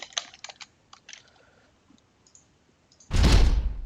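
A few sharp, quick clicks from a computer mouse, spaced irregularly and close up, then near silence before a sudden loud burst of sound from StarCraft II as it launches.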